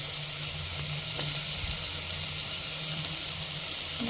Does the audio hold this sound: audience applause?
no